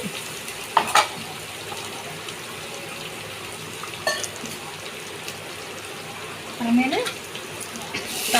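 Ground spice paste for chicken rasam is tempered in hot oil and sizzles steadily while being stirred, with a few louder spatters and a voice briefly heard over it.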